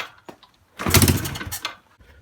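A 2011 Yamaha TTR110E dirt bike engine on choke cranks and then briefly catches, a short burst of rough sputtering revs lasting under a second before dying back to quiet.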